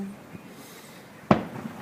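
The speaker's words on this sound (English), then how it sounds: "tonight we're watching fireworks" A single sharp firework burst cracks at night after a quiet stretch of faint background noise, followed by a brief echo.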